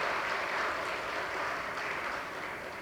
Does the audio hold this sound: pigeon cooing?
no